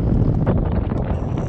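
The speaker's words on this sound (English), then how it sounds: "it is so windy out there" Strong wind blows by the ocean at a solo campsite, a loud, continuous low roar of gusts battering the microphone.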